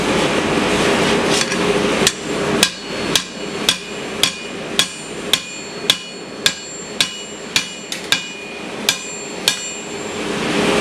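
Hand forging an angle onto a crowbar tip: a steady series of about fifteen sharp, ringing hammer blows on hot steel, evenly spaced and close, over a low background hum.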